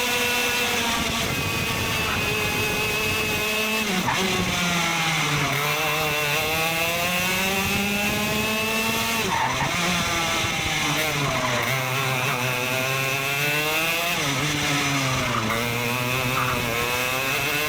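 ROK Cup racing kart engine during a lap of a professional race, a loud, close two-stroke whine rising and falling in pitch as the kart accelerates and brakes through corners, continuous with no talking.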